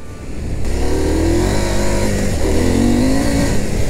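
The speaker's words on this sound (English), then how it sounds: "My God, it accelerates great." A Husqvarna Norden 901 adventure motorcycle accelerates hard on a sandy off-road route with traction control off, its engine loud and close, revving up and rising through the gears without a break.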